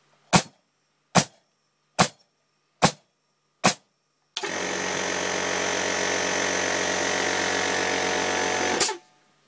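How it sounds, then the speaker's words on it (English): In a workshop, five sharp, evenly spaced bangs from a Tacwise GCN57P gas nailer are followed by an air compressor cutting in with a loud, steady motor hum that runs for several seconds and then stops abruptly. "The compressor's cut in there"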